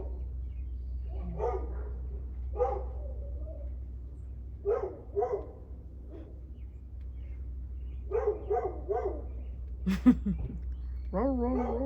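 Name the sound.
neighbour's dog barking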